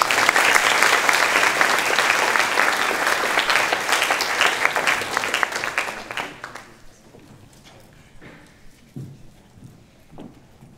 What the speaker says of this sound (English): Everybody give a big round of applause for KERI Potts